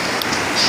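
Rain falls steadily as an even, dense hiss, close and fairly loud, with brief brighter spatters and no voices over it.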